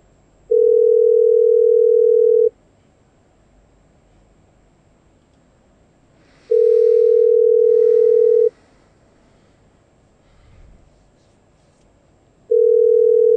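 A telephone ringing tone sounds on a call while waiting for an answer: three steady, loud electronic tones of about two seconds each, separated by roughly four-second gaps, with faint background noise between them.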